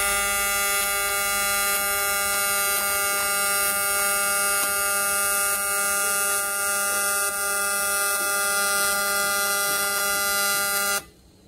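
A TIG welding machine running at 100 amps in AC mode with 200 Hz frequency and balance at 30, giving a steady, loud electrical buzz with a harsh tonal hum that holds evenly for about eleven seconds before stopping abruptly.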